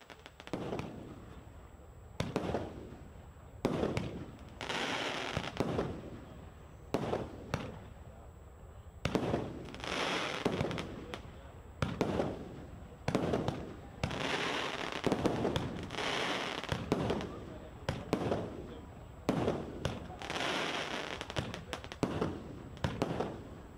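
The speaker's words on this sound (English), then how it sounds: "So there was also some fireworks in the evening after the excavator being removed from the ground." Fireworks let off in the evening after an excavator was removed from the ground, a long series of sharp bursts and crackling booms in irregular clusters, fairly distant and steady throughout with no talk over them.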